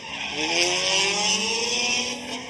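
Leeds Racing Mazda RX-7 FD drift car at Formula Drift Japan qualifying at Ebisu, engine screaming steadily at high revs with rising pitch, tires squealing through the slide, loud and near.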